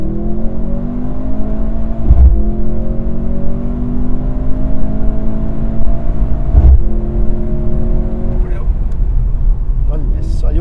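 Mercedes-Benz C 63 S E Performance hybrid, loud and close, holding a steady deep engine drone with a slightly falling pitch, broken by two brief heavy thumps from the exhaust.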